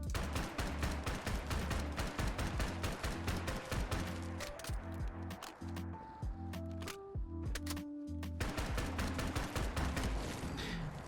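A Steyr AUG rifle firing 10mm rounds in Fallout 4 fires rapid repeated shots in a dense crackling stream, pausing midway amid faint musical tones before the shooting resumes, fairly quiet overall.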